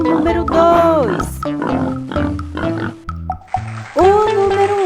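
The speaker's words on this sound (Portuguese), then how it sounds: "O número 1 é o porco." A pig oinks and grunts loudly several times in quick succession, with harmonic snorting calls close up and no talk over them.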